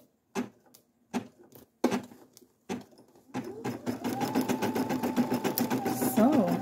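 A Brother SE1900 home embroidery machine stitches a large design in a 5 x 12 hoop. Short separate bursts give way to continuous rapid, rhythmic needle chatter, close and loud.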